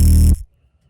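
An FM8 synth patch built from just two sine waves sounds a single loud, bright buzzy tone for about a third of a second, then cuts off abruptly into near silence.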